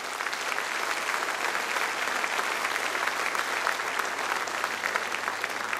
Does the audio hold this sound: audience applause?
yes